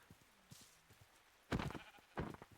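Two loud bleats from a sheep in the game GregTech: New Horizons ring out after a few quiet clicks and taps, each a short, harsh sheep cry.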